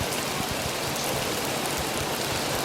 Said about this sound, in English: we can still hear the rain falling on the roof above us